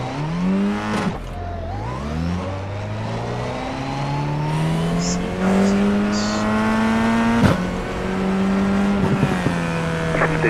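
A Formula F4 open-wheel race car in the iRacing simulator roars loudly, revving up through repeated gear changes with rising engine pitch, a continuous close-up engine note with no talk.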